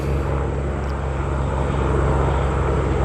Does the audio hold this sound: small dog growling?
no